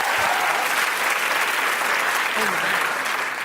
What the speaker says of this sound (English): A round of applause for Louisa and Bridget there.